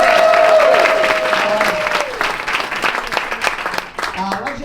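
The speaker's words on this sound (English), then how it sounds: "Let's give him a round of applause." Audience applause and clapping fill a magic show at the Magic Castle, loud and dense, with a sustained tone and some voices mixed in during the first half, then the clapping thins toward the end.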